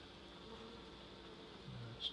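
A faint, steady insect buzz comes from an old honeybee colony hidden inside a bedroom wall. It forms a continuous low drone with one brief louder swell near the end, and there is no talking.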